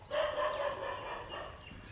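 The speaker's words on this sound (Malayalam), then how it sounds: "ഇങ്ങനെ ആരെങ്കിലും വരാണെങ്കിൽ ചാർലി അവിടെ നിന്ന് കുരയ്ക്കും." A dog barks and whines in short yelping bursts at a farm vegetable plot, fairly close and moderately loud, with no talking over it.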